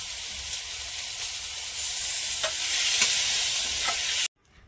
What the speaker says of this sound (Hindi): फ्रेंड हम सब्जी छौक रहे हैं